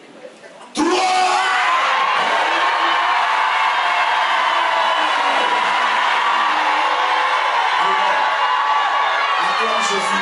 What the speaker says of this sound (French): Je vais entendre le peuple de Dieu crier Alléluia